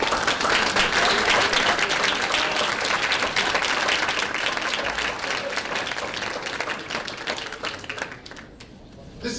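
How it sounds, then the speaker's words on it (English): An audience at an American Folklore Society lecture applauds its Fellows with sustained, dense clapping from a large crowd in a hall, loud and steady before slowly thinning and fading toward the end. "I'd like for the fellows who are here, who are gathered, to stand up and be recognized and applauded."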